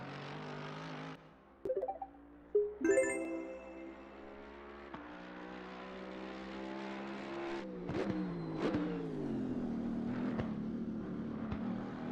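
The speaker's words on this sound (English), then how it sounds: "Listen to the sound of this V8," A V8 race car engine in Assetto Corsa Competizione roars and revs through gear changes, rising and falling in pitch over several seconds, loud and steady with sharp shifts.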